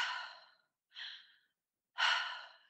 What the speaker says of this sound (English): I create a circular breath pattern